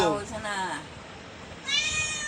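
A house cat meows close by in two clear, drawn-out calls, with a person talking around them.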